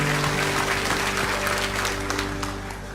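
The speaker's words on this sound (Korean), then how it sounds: "우리 다시 한 번 더 큰 박수로 축복합시다." A church congregation claps steadily through a special dawn revival service at Bundang Woori Church: a dense, continuous wash of hands, slowly easing toward the end, over a sustained keyboard tone.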